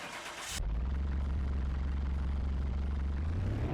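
A turbocharged car engine in Car Mechanic Simulator 2021 bursts into a steady, loud low rumble after a brief rush of hiss, holding a deep revving drone close up with the pitch lifting slightly near the end.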